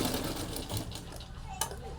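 A sewing machine stitches a blouse hem, a fast, steady mechanical whirring and clatter heard close up, with a brief sharper knock near the end and a voice faintly in the background.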